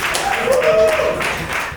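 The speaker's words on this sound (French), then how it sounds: "On maintient l'applaudissement encore," Audience at a Montreal slam poetry night clapping after a performance, a brief burst of dense applause with a voice or cheer mixed in.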